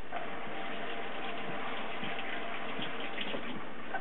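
Tap water runs steadily into a sink while callaloo leaves are washed, a continuous close gushing splash with no talk.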